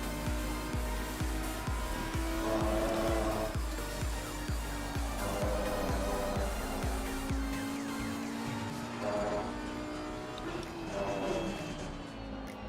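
An Audi race car engine in Assetto Corsa Competizione revs up through repeated gear changes, a loud rising drone that then eases off, with someone talking over it.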